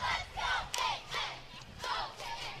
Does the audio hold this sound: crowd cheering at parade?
yes